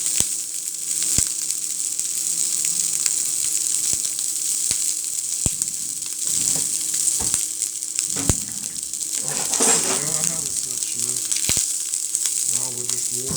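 Food sizzles in a pan on a stovetop while spicy noodles are being cooked, a loud continuous bright hiss with scattered pops and clicks throughout, and a short burst of speech partway through.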